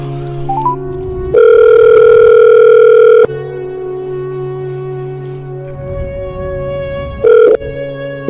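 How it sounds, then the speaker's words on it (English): A telephone call being placed, with a loud steady dial tone, a short burst of dialing tones, then repeated ringback tones heard clearly without talk. "Let's call Old Man Nation."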